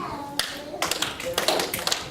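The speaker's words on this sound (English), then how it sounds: "No, that's clapping in the church." Clapping hands in a school or church gathering, a few quick sharp claps in an irregular rhythm, close, with some voices.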